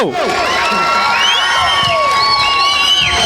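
An audience at a children's mallakhamb and yoga performance keeps up loud applause and cheering, with several long piercing whistles sliding up and down above the continuous clapping roar.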